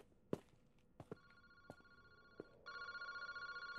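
A telephone rings inside a phone booth in a video game, with a steady repeating electronic ring that begins loud and continuous near the end, following a few sharp footstep-like clicks.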